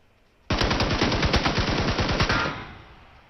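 Automatic gunfire sprays in rapid, evenly spaced shots in the PUBG shooter on PS4, a loud close burst of about two seconds that cuts off abruptly, with no talk.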